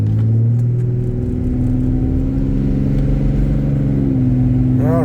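A car speeds down the road, its engine whirring and humming at mid pitch, steady and close throughout with a slight revving rise near the end.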